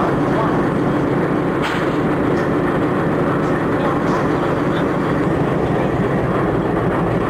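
A train runs in the Indian Railway Train Simulator mobile game, a continuous rumbling rattle of wheels and engine holding steady and loud throughout, with a few faint higher clicks along the way.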